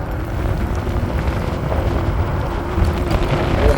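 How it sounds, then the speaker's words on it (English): Strong, steady wind buffets the microphone outdoors on a cold day, a continuous low rumble that swells slightly toward the end, with no talking. "it's windy though"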